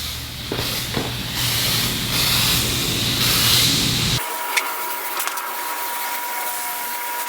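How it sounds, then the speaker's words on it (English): Butter-flavored food spray hissing from a can onto wax paper, a broad continuous spray for about four seconds that stops abruptly, leaving faint light tapping and handling noises. "So I'm going to spray this, spray down the wax paper."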